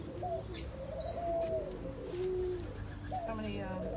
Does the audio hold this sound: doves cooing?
yes